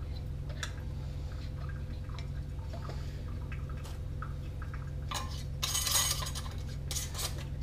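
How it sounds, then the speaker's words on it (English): Metal canning seals and lids for home-canned beets clink and scrape lightly during handling. A steady low hum runs underneath, with a louder clatter near the end and no talking. "Put your seals on."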